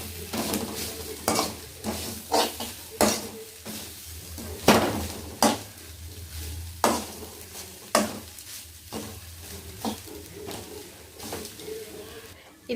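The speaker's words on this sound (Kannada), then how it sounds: "ಇಲ್ಲಿ ಕಾಕ್ನೆಟನ್ನು ಫ್ರೈ ಮಾಡುವ ಸ್ವಲ್ಪ." Coconut fries in a pan while a spoon stirs it, scraping in a regular rhythm of sharp strokes over a continuous soft sizzle, close and fairly loud.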